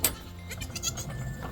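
Several goats bleat in a barnyard, short nasal calls from a herd close by, heard over soft background noise without talk.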